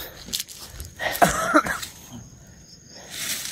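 A few harsh coughs burst out close by amid quiet outdoor background noise, followed by softer rustling.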